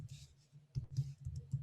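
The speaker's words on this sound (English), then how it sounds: "I'm going to do that by clicking a button." Several soft, close clicks on a computer mouse while pressing a button in an app-builder interface, spaced irregularly over a quiet background, with no talking.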